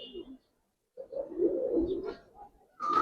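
Pigeons of an old Palla line coo in a loft, low soft throaty coos in short bursts with brief pauses between them, close by, with no talk.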